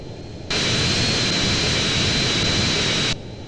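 The engines of a private jet roar on the runway at takeoff in a video game, a loud, steady jet whine with a high tonal whistle that cuts in abruptly and stops just as suddenly.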